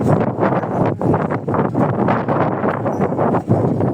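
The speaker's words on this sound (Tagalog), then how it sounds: "Basta hangin." Strong gusty wind buffeting the microphone, loud rumbling bursts rising and falling throughout with no clear voices.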